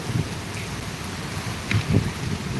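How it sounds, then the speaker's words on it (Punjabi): Heavy rain falls in Tarn Taran, Punjab, as a dense steady wash of drops with low rumbling gusts swelling now and then, with no voices. "ਬਾਰਿਸ਼ ਜਿਹੜੀ ਲਗਾਤਾਰ ਵੱਧ ਰਹੀ ਹੈ"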